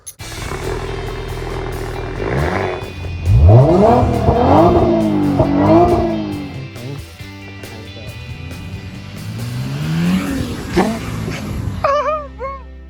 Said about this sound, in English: I'll just record me driving the SI, me letting it start up and me letting it run